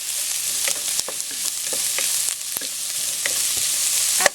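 Carrot pieces cooking in a pot for Filipino macaroni soup give a steady, moderately loud sizzle with scattered faint clicks of a utensil, no voices.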